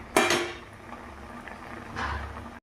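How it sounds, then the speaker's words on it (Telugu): A ladle stirs tomato dal in a metal pot: a sharp clank and scrape at the start, quiet simmering, then another scraping clatter near the end. "ఒక్కసారి గరిటతో తిప్పుకుందామండి, మొత్తం కలిసేటట్టు."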